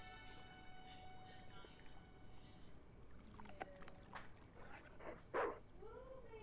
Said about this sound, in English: So that the dog goes for a bit of a swim.